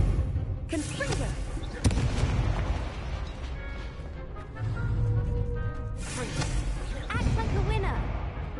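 Confringo blasting spell in a video game: sharp bursts and booming blasts go off repeatedly amid dense game noise, with crackling hits and a voice speaking over the chaos.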